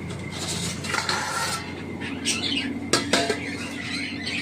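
Lids set on cooking pots and dishes in a home kitchen, a few close metallic clinks and clanks over quiet room sound, with faint bird chirps in the background.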